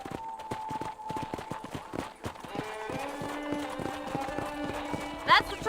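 Horse hooves clip-clop at a steady trot in the Western game Red Dead Redemption, repeated close thuds that continue under a voice talking and music-like tones, with a brief louder burst near the end.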